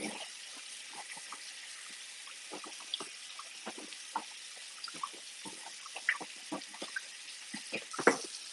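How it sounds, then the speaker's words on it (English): Cut vegetable florets rinsed under a running kitchen tap, with a steady close splash of water broken by many irregular drips and splatters as the pieces are handled. "Give this a quick rinse."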